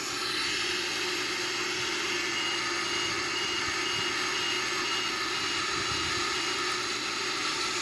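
A Boeing 777-300ER jet climbs after takeoff, a steady broadband engine roar from inside the aircraft that stays constant and loud throughout, with no voices.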